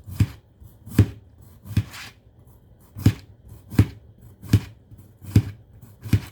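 A knife slicing a zucchini on a cutting board: nine crisp, evenly spaced chops, close and clear, with no talk over them.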